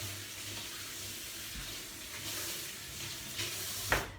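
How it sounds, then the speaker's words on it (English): Hands being washed under a running tap, a steady wash of flowing water with light splashing and a small clunk near the end, close and moderately loud, no talking. "Wash my hands."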